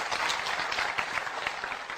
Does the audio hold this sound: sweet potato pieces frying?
no